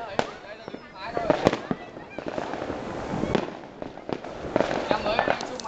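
New Year's Eve fireworks at a Vietnamese hometown celebration crackle and pop in rapid, dense bursts, with sharp bangs scattered throughout and people talking underneath the continuous display.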